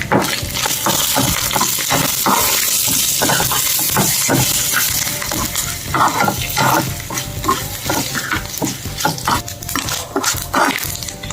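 Oil tempering with a pinch of asafoetida sizzles loudly in a small pan, a busy crackling fry broken by frequent spattering pops and stirring scrapes throughout.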